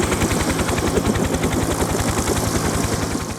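A helicopter flies overhead, its rotor blades thumping in a fast, steady rhythm under a loud, continuous engine whine, close and unbroken.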